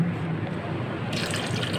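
Water poured steadily into a pot of chana dal with meat, a continuous liquid pouring and trickling noise that brightens and grows splashier partway through.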